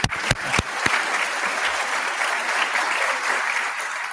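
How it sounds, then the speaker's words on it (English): An audience at a medical school white coat ceremony claps for the graduating class's families, steady dense applause from a crowd, opening with a few sharp individual claps before settling into a sustained wash that holds throughout. "I want to applaud the families too."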